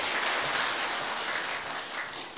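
Church congregation applauding during a Sunday prayer service, a dense steady wash of many hands clapping together, moderately loud and sustained throughout without talking.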